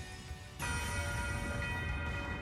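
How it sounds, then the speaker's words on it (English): The Nocturne Bell skill in Trails of Cold Steel IV rings out as a sudden, sustained bell-like chime with shimmering tones that enters after a brief lull and lingers evenly to the end. "Resound! Nocturne Bell!"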